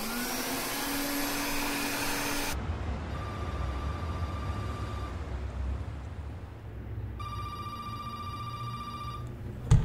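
A vacuum cleaner runs steadily with a broad whooshing roar and a low motor hum, with a brief electronic ringing tone heard twice over it.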